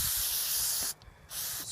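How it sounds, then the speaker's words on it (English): Steady aerosol spraying of sealant around an RV rock guard, close and loud, with a brief pause before the hissing spray resumes. "we're just going to spray around all this. That way it doesn't leak."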